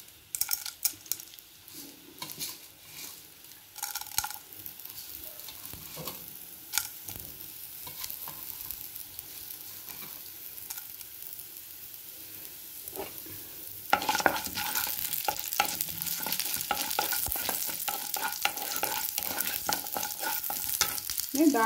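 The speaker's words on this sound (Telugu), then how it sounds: "కొంచెం శనగపప్పు, కొంచెం ఆవాలు, శనగపప్పు కలిపిన పోపులు" Chana dal and mustard seeds sizzle in hot oil in a small tempering pan, a steady crackling fry with spoon-stirring clinks that swells louder and denser partway through.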